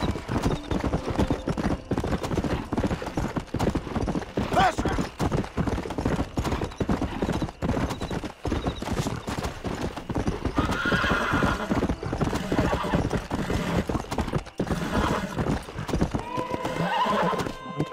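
Hoofbeats of a horse galloping in Red Dead Redemption run in a steady, loud clip-clop rhythm throughout, with occasional whinnies and snorts breaking through.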